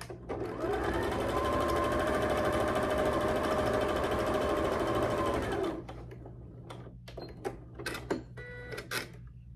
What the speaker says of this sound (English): I'm going to sew that 1/4 inch